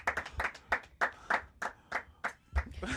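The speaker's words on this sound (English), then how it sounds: "Clap it up for Jenise, man." Claps ring out in an evenly spaced, fairly sparse rhythm during a talk show, close and crisp, about a dozen distinct hand claps with no talking over them.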